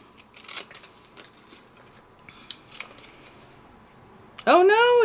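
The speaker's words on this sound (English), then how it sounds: "you can just get your scissors and eyeball it, which is what I will do right now" Scissors snip a paper strip during a crafting session with a wraparound gift die project, several short crisp cuts spread through the clip, ending in a loud bright metallic ring.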